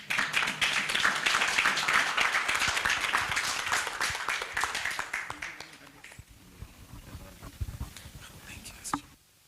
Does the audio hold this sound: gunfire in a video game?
no